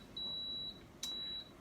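An oven control panel gives two clear electronic beeps as the grill timer is set, each a steady high tone, close and isolated against a quiet kitchen.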